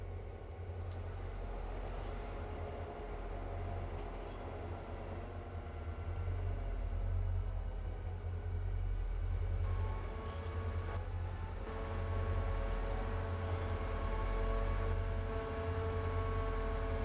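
A train doubling over onto the main line rumbles steadily with a deep low drone, distant and fairly faint, a faint thin tone riding above and the sound swelling slightly midway.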